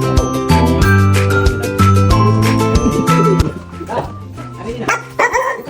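A dog barks repeatedly in short bursts at a house entrance while people talk nearby, the barks standing out against a busy, noisy background.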